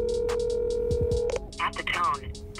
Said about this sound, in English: the tone, please record your message.